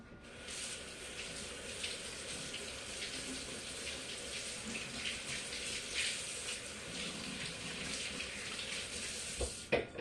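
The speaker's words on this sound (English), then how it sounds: "Let me rinse this off real quick." Tap water runs steadily and close by in a home kitchen sink while something is rinsed during keto bagel preparation, a continuous hiss lasting nearly the whole stretch before cutting off abruptly at the end.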